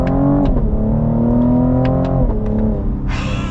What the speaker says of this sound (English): We are gonna get an acceleration pretty much from a stop here with the CT5V.